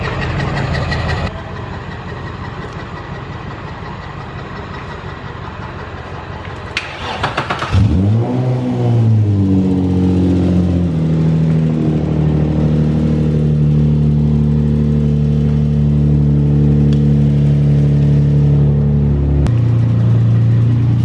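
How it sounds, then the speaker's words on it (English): Loud Nissan 350Z with no plate: road noise and idle give way to a sharp revving surge, then a deep steady engine drone as the car drives on, close and alone without talk. "Her car has no plate and it's blue and it's loud"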